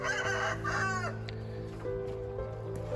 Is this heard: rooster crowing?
yes